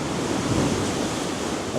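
Sea waves surge in over shore stones on the North East England coast, a steady broad wash of surf with some wind buffeting the microphone, continuous and fairly loud, without talking.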